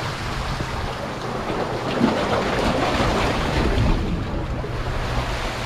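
Ocean waves washing over rocks along a shoreline fishing spot, a continuous broad rushing surge that swells in the middle, with steady wind noise on the microphone.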